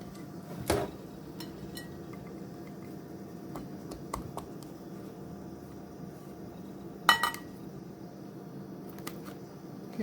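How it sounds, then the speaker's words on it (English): Two brief metallic clinks as a metal canning lid is set onto a glass jar of Hungarian beef, separated by several seconds of quiet room hum with a few faint ticks. "And I just set it on there like a normal lid."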